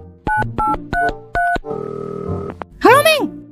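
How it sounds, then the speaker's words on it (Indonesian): Four evenly spaced telephone dial tones sound, followed by a sustained ringing tone and a short rising, warbling electronic tone, all loud and close. "Telepon Cimeng dulu ah."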